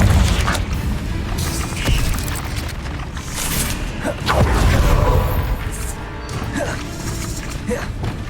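A Confringo fire spell explodes in the game Hogwarts Legacy, heavy booming blasts and crashes rolling through a continuous loud game soundscape, with a few distinct impacts across the clip.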